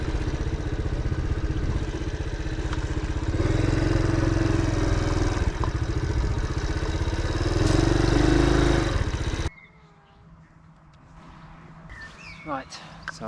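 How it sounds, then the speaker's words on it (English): A Honda CT motorcycle engine drones steadily while riding, loud and close with wind rumble. It cuts off abruptly near the end, leaving quieter outdoor ambience with faint birds. "I'm only on a Honda CT, which has a top speed of around 40 miles an hour."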